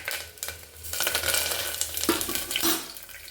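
Curry leaves sizzling and crackling in hot oil with spices for Birbal khichdi, a steady close frying hiss with brief stirring clatter, no talk.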